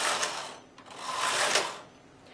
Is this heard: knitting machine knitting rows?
yes